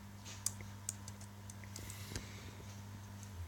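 Soft, quick keystrokes tap on a keyboard in a short burst over a low steady hum, with a couple of sharper clicks.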